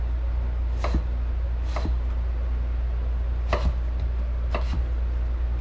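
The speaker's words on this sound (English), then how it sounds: "finish chopping these here." Knife chopping raw potatoes into French fries on a cutting board at home, four separate sharp chops spaced irregularly over a steady low hum.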